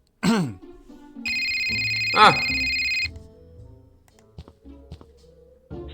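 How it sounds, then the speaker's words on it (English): A telephone rings in the Scott Whiskers adventure game, a bright sustained electronic ring in Scott's apartment, framed by a swooping effect and short clicks and taps, with faint voice sounds around it. "a phone suddenly starts ringing"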